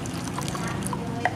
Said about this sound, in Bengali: এখন এর মধ্যে আমি জল দিয়ে দেব